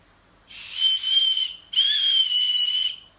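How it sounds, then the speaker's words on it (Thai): A toy whistle is blown twice in close succession: two long, loud, steady shrill tones of over a second each with a short gap between, and no talking. "นี่เป็นนกหวีดนะ"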